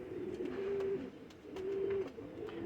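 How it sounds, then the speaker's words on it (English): Pigeons in a pigeon loft coo softly at close range, with two or three drawn-out steady coos separated by short pauses over a faint rustling background. "Look at all your birds."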